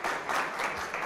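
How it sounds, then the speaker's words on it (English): Audience applause at a media conference, a short burst of clapping from a seated crowd that fades quickly. "So a round of applause."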